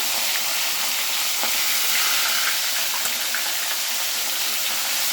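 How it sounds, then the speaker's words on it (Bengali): Hilsa fish deep-frying in hot oil on a strong gas flame, a continuous loud hiss and sizzle with small crackles and pops, close by. "পুরো একটু ছাঁকা তেলে ভেজে নিতে হবে মাছটা"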